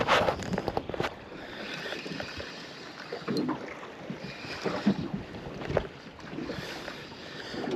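Steady wind buffets the microphone aboard a fishing boat on choppy Lake Macquarie, with rough gusting rumble and splashing water throughout and no voices.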